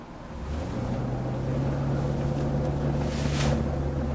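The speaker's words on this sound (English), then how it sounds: "I'm gonna give it full throttle and let's just see what it does" A 1997 Pace Arrow Vision motorhome engine drones at full throttle and high revs, a steady low hum with rushing road and wind noise building slightly over a few seconds.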